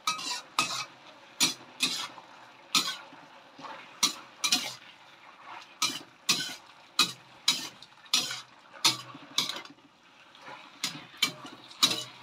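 Leeks (bawang prei) cooking in a pan, a steady rhythm of scraping stirs about once a second, each a short bright rasp over a faint sizzle, close and moderately quiet.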